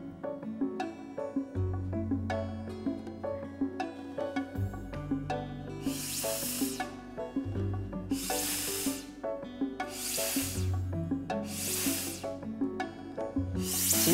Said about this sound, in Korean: 그럼 이제 다 만든 빨대 분무기로 직접 물을 넣고 뿌려볼까요?